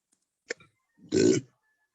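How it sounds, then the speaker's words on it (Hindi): A person burps once, fairly loud and close, during an online meeting, preceded by a faint short sound; no talk accompanies it. "कौन इतनी डकारें ले रहे हैं?"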